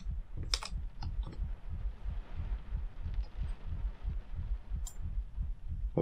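Heartbeat in the horror game Layers of Fear: a steady, deep, low thumping pulse repeating about twice a second, loud and continuous, with a few faint clicks over it.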